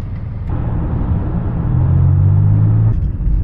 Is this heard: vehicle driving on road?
yes